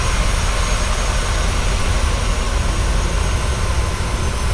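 Steady, loud roar of Boeing 737-900 jet engines heard from outside the aircraft in a flight simulator, a continuous broadband rumble with no talk.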